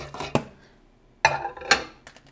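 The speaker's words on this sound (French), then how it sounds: "On claque la porte" Kitchen microwave door slammed shut: a sharp close thud with clattering knocks, several separate impacts spread over a couple of seconds in a quiet room.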